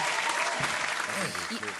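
Audience applause on a talk podcast, a continuous soft patter of clapping with a person speaking over it.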